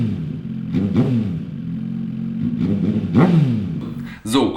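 A motor fitted with a cheap AliExpress aftermarket exhaust revs up repeatedly in rising bursts over a steady idling rumble, loud and close, ending with a sharp final blip.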